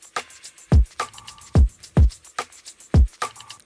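Dry drum tracks from an electronic track, with punchy deep kicks and crisp snare and hat hits in a steady groove, loud and alone without bus processing.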